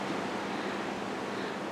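Sea surf rolls steadily behind a holiday veranda, a continuous broadband wash of waves with no distinct breaks, heard alone without any voices.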